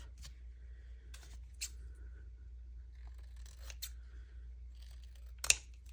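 Scissors snip through paper while a junk journal is made, giving a few quiet, separate cuts against a low steady hum, with one sharper snip near the end.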